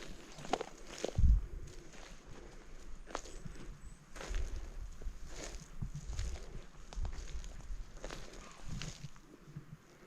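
Irregular footsteps crunch and rustle over ground outdoors on Kansas public land, close and fairly quiet, with a heavier thump near the start.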